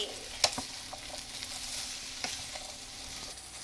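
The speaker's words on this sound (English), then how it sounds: "The jalapenos, the pepper, and then we're just going to mix everything together fully." Jalapenos and pepper being stirred into pasta tibs in a hot pan, with a steady sizzle of frying and a few scraping clicks of the utensil against the pan, close up and without speech.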